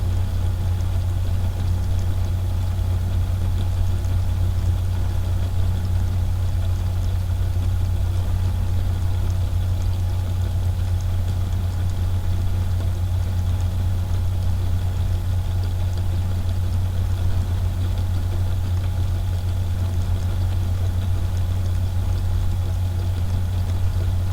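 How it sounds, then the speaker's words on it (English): An electric motor drive runs steadily on a test rig, giving a constant low hum with a strong tonal drone and faint higher whine, unbroken and alone at close range for the whole stretch. "I'm going to turn the motor off to the drive temporarily."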